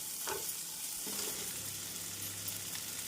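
Onions sizzle and crackle steadily in a hot pan, with occasional stirring scrapes.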